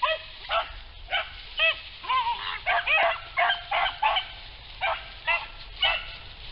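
A pack of hunting dogs chasing a rabbit bays and barks in quick repeated bursts, several voices overlapping at a moderate distance outdoors with no talking.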